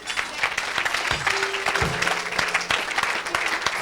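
A church congregation at a Sunday worship service applauds, a dense, loud wash of clapping that keeps going with a few louder bursts and faint voices mixed in.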